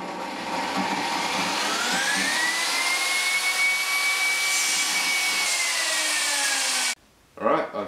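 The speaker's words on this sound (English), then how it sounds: "do two lines on it, one with the router, one with the circular saw" Power tool cutting kerf lines across wood, with a steady loud high-pitched whine and rising motor tone for several seconds, then an abrupt stop followed by brief handling noise.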